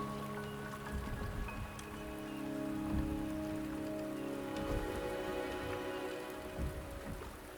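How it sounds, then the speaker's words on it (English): Steady rain pattering on surfaces in the video game Wuthering Waves, a dense continuous wash of drops with soft low rumble beneath, no voices. "The rain is subsiding, and the sky will soon clear."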